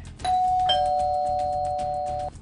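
A two-tone ding-dong doorbell chimes once, clear and close, a bright electronic tone sustained for about two seconds over a faint background hum, with no talking.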